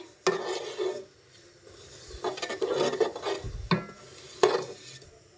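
Jaggery (gur) being stirred as it melts in a pan over medium heat, a spoon scraping and dragging in uneven strokes with light sizzling, close and moderately loud, no voices.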